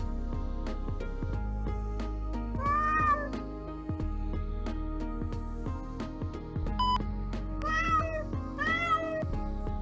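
Purebred pet cat meowing repeatedly in the Pet Pals: Animal Doctor veterinary game, its rising calls standing out over a steady game music backdrop.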